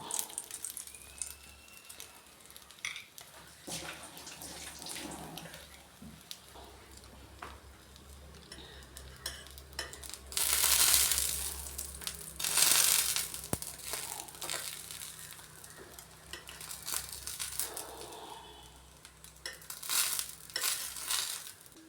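Bread pieces fry in a pan for bread roast while being stirred, making a soft continuous sizzle with scraping and crinkling stirs that swell now and then, close by and moderately quiet.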